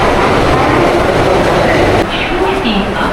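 A Katwa local train stands at platform 3 of a railway station, its steady rumble filling the air as a voice talks over the busy platform noise.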